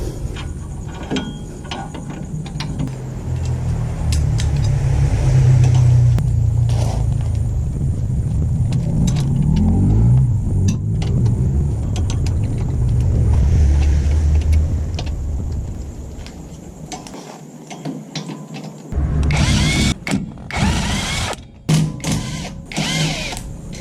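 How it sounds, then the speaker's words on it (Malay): A ratcheting tool with a T55 Torx bit works screws loose on a Perodua Axia's rear wheel hub during a bearing change, clicking and grinding in a long continuous run, then a burst of sharp metallic knocks and clanks near the end. "kita nak buka skru ni kita guna T55"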